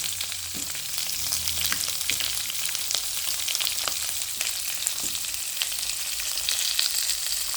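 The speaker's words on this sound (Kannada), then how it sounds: "ಈಗ ಒಗ್ಗರಣೆ ಕಾದಿದೆ ಇದು ಈರುಳ್ಳಿ ಒಗ್ಗರಣೆ" Onion tempering in hot oil over a medium flame makes a close, continuous sizzle, dotted with small pops and crackles, with no talking.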